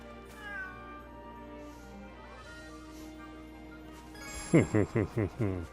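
Several cats meow in quick succession, a clear run of five or so close, loud meows near the end after quieter game background music in the PS5 game Atelier Ryza 3: Alchemist of the End & the Secret Key.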